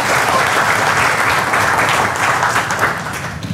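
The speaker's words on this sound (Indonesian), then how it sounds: "Tepuk tangan buat kita semua sekalian ya." A crowd at a lecture-style event about Kangen water applauds loudly and continuously, with dense overlapping claps that fade slightly toward the end.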